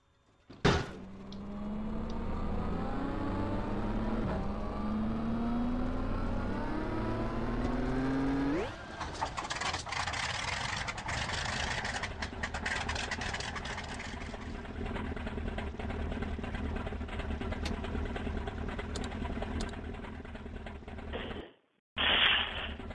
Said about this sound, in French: on démarre les moteurs